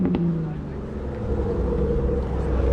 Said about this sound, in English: We got a 350Z pulling up. Another VQ. You could tell by the sound of it